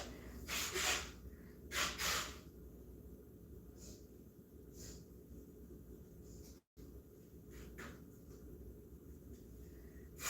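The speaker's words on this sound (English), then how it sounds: "My nose, I gotta blow my nose." A few sharp nasal bursts of nose blowing, then quieter sniffs and breaths in a hushed room.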